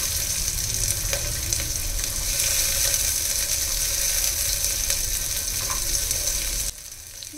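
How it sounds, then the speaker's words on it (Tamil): Shallots and onions fry in hot ghee with cardamom, cinnamon and cloves, making a steady, close sizzle with scraping stirring noises that cut off sharply near the end. "நம்ம கட் பண்ணி வச்சுருந்த சின்ன வெங்காயமும் இதோட ஆட் பண்ணிக்கலாம்."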